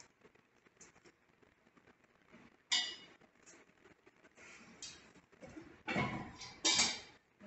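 Scattered light clinks of a metal griddle and utensils during open-hearth cooking over coals, with several louder bursts of clattering toward the end.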